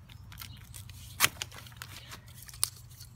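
Bamboo stalks being cut low to the ground in a yard, giving two sharp snapping cuts amid soft rustling and crunching of stems, fairly quiet and close.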